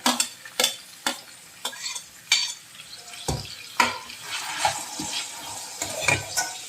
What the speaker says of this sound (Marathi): कांदा चांगला आपण व्यवस्थित परतून घ्यायचा